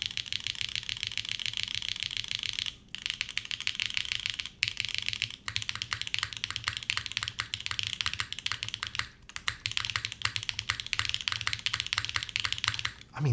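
Steady, rapid typing on a Fuji75 mechanical keyboard with SWK Ripple switches, crisp clacky keystrokes close up, with a few brief pauses and occasional louder thocks.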